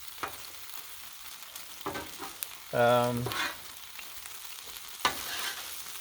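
A PF Chang's skillet meal fries on a Blackstone griddle with a steady low sizzle, broken by scattered stirring and scraping clicks and a brief whining tone partway through.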